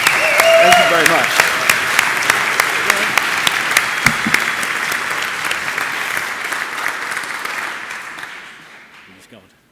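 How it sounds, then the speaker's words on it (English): An audience at a PyCon UK 2018 lightning talks session claps loudly and steadily for first-time speakers, then the applause fades away toward the end, with a voice heard briefly near the start. "can we have an enormous round of applause for our first-time speakers?"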